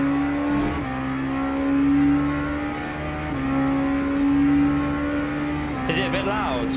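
Simulated LMP2 prototype race car engine in Le Mans Ultimate, a steady high drone holding near one pitch with brief shifts and a rising rev near the end, loud and continuous while a voice talks over it.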